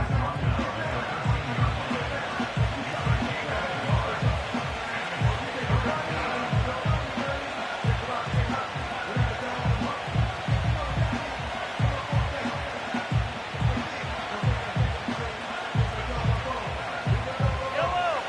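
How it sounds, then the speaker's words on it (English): Stadium crowd at a Chiefs vs Commanders NFL football game building before a third down, a steady dense roar of many voices with rhythmic swells, under continuous play-by-play commentary. "This crowd into it now as we get to 3rd down"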